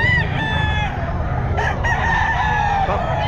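A Kelso rooster crowing at a busy pet market, several strained, harmonic crows close by over a constant crowd and ambient rumble, with other fowl clucking nearby.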